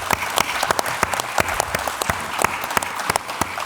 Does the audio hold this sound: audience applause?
yes